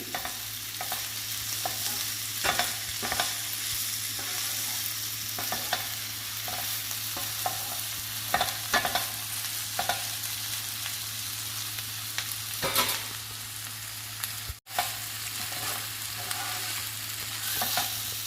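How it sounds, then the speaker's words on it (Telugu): Cluster bean curry fries in a pan after chili powder goes in, a continuous close sizzle broken by frequent stirring scrapes, with a low steady hum underneath. "కారం వేసాక 2 నిమిషాలు ఫ్రై చేసుకోవాలి, అప్పుడు బాగుంటుంది కర్రీ."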